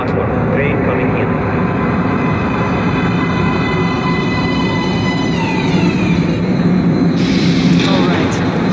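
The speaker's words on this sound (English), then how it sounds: "Please step away from the edge of the platform. Train coming in." Train pulling into a metro platform in the video game Metro Last Light Redux, a continuous loud rumbling roar with high whining tones sliding in pitch, with voices talking over it.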